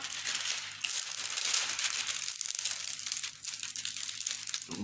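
Paper crinkles and rustles up close in busy bursts of crumpling and handling, with a faint steady hum in the background.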